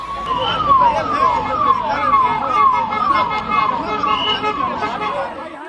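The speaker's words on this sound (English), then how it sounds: "And in the distance, the sound of sirens." An emergency vehicle siren sweeps up and down in steady repeated cycles after a stampede, fairly loud, with crowd chatter and background noise underneath.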